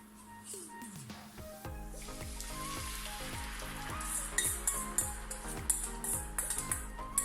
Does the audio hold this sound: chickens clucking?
no